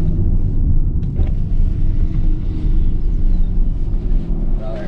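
Tesla Plaid electric car on a quarter-mile drag strip at night, a steady loud low rumble of the run with a brief sharper burst near the start, no clear engine note.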